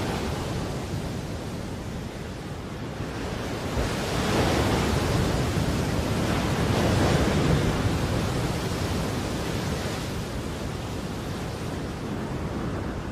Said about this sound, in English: Christmas Island has caught the edge of a full-blown tropical cyclone.